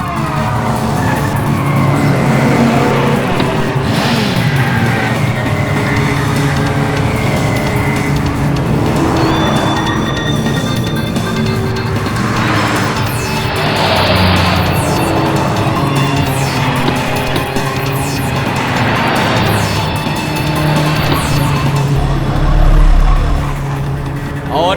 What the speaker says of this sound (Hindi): ये देखिए गाड़ी नंबर 5 सबसे आगे जाते हुए